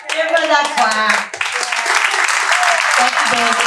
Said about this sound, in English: Give her that clap.